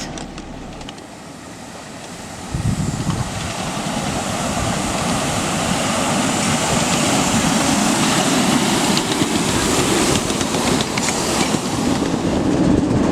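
Small-scale live steam railroad engine running on track at a club meet, a low rumbling roll that swells loudly after a quiet start, with steady rail clatter and broadband noise of cars passing close by.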